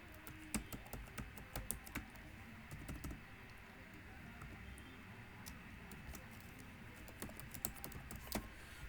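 An email ID being typed on a computer keyboard during an online registration, quiet irregular clicks of keys in small bursts, close but faint, with no speech.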